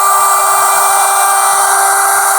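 A wood router cuts walnut with a loud, steady high-pitched whine and a bright sustained tone, close and continuous with no pauses.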